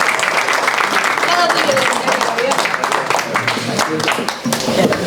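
An audience at a tango festival in Spain applauds a tango singer, a loud, continuous round of clapping with voices talking over it throughout.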